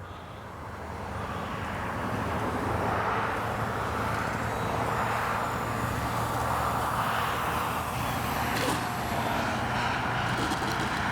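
An FMS Cessna 182 RC model plane drones past with a steady, broad engine whine that swells after a quiet start and holds loud and even, with wind noise mixed in.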